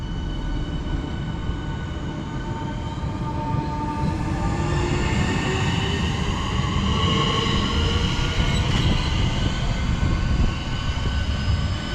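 A Southeastern passenger service from Sevenoaks to London Charing Cross pulls out of Chelsfield station, its steady rumbling roar accompanied by rising electric motor whines as it accelerates close by, with no talk.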